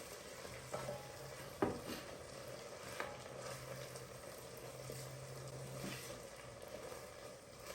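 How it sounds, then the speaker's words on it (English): Risotto being stirred in a pot with hot liquid added a little at a time: steady soft scraping and sizzling, with a few sharper spoon knocks against the pot near the start. "and you just stir"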